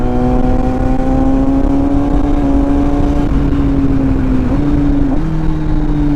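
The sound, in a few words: motorcycle riding on road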